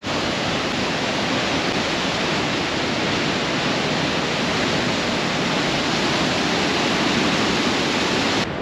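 A waterfall in Switzerland's Lauterbrunnen valley roars as a steady, dense wash of falling water, loud and unbroken throughout with no voices.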